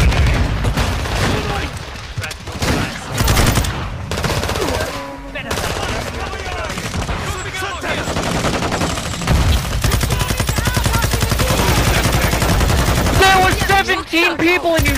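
Dense automatic gunfire and bursts of shots from Call of Duty Modern Warfare 2 rattle almost nonstop, loud and close, with a player talking over parts of the fighting.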